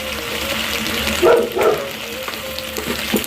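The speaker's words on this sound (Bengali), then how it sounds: "নতুন কষানো রেডি মিট মশলা দিয়ে আরেকটু কষিয়ে নেব" Chicken sautéing with meat masala in a pan, a steady close frying sizzle with a couple of louder bursts of hissing and stirring partway through.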